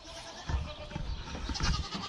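Goats held outside in pens on a farm with does and a buck bleat in a few close, ragged calls over rustling background noise.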